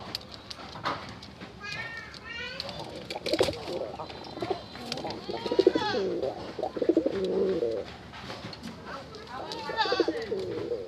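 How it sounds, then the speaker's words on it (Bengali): A pair of deep red pigeons at a pigeon sale coo softly and repeatedly at close range, with someone talking over much of the cooing. "দেখার মতো এক জোড়া কবুতর।"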